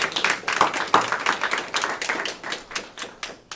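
Applause for a student at a school board meeting, a small scattered group clapping with distinct individual claps that thin out toward the end.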